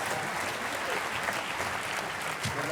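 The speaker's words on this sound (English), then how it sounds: "Give him a round of applause." High school students in an auditorium give a speaker a round of applause, dense continuous clapping at a steady level throughout, with a few faint voices mixed in.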